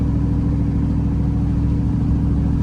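Lifted truck on TSL Swamper tires cruising down a back road, steady close engine drone with constant rumbling tire roar throughout, no voices.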